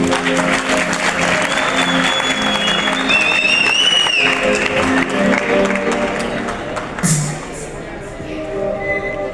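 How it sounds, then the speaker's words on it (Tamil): An audience at a local singers' recognition show claps and cheers as a singer walks on stage, sustained applause with music playing underneath and a few whistles rising above the crowd. "இப்ப மேடைக்கு வரும்போது பாருங்க அவருக்கு கிடைக்க போற கைத்தட்டல்கள்."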